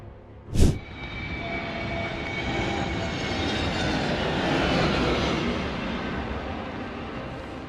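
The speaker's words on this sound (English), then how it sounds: "A crazy footage with a Bangladesh Air Force combat trainer aircraft." Bangladesh Air Force combat trainer aircraft aborting a landing in bad weather and taking off again, a sharp bang at the start, then a steady, broad engine roar that swells slightly and holds.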